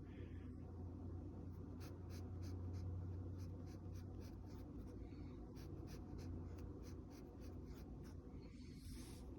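A pen or pencil sketches eyes on paper, making faint rapid scratchy strokes in short bursts over a low steady background hum.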